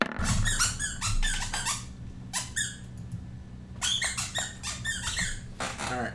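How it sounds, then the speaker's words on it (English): Rapid high squeaks come in quick bursts and short runs, close and fairly loud, with brief pauses between the clusters. "No more squeaking, but I love you, buddy."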